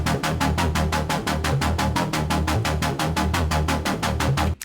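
A synth arpeggio preset built in Phase Plant, fast evenly spaced notes repeating in a steady rapid pulse, bright and loud, playing alone before cutting off at the end.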